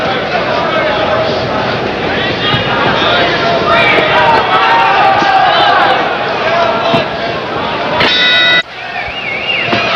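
A partisan boxing crowd roars steadily for Marvin Hagler throughout a bout, a dense, continuous wall of cheering that suddenly drops away near the end.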